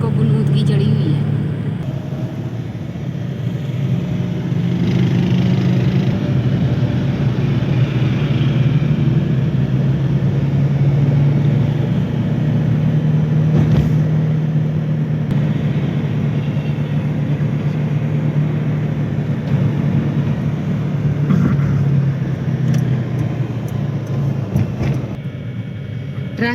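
Road traffic on Lahore streets where the traffic is backed up and stopped, a continuous low engine rumble and hum of vehicles with someone talking over it throughout.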